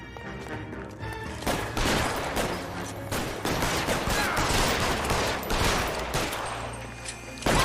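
Gunfire in L.A. Noire: dense, loud bursts of shots and rapid volleys cracking repeatedly throughout, with a few heavier impacts among them.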